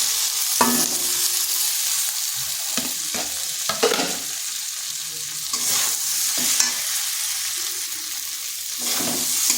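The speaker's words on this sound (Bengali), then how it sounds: "দিয়ে দিচ্ছি আলু আর কুঁদরি ভাজাটা।" Fried potatoes and ivy gourd are stirred through a cooked spice paste in a pan. A steady sizzle runs under repeated scraping strokes of a spatula, close up and with no voices.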